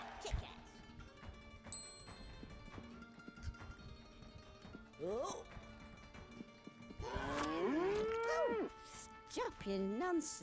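Cow mooing in the video game Conker: Live and Reloaded, a few drawn-out, bending moos in the second half over steady game ambience and music.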